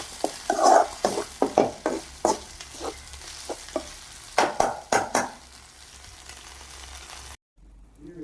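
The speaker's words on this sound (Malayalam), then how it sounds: "മീൻ്റെ മുട്ട വറുത്തു" Fish roe frying in a pan, a soft continuous sizzle broken by a series of sharp stirring scrapes at an uneven rhythm, close and fairly quiet, before cutting off near the end.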